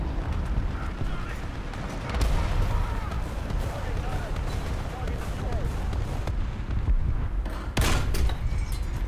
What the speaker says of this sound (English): And he's called in some arty.